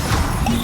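A Bombarda blasting spell strikes in Hogwarts Legacy during a hard-difficulty trial, a short, loud, crashing impact that fills the whole moment with no pause.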